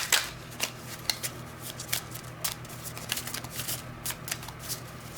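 A deck of cards is shuffled for a card reading, a close, crisp riffle of flicking and slapping cards in quick irregular bursts over about five seconds.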